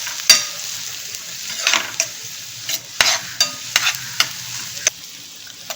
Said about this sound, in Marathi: थोडेसे गोल्डन ब्राऊन होईपर्यंत आपण जरा त्याला फ्राय करून घेऊ.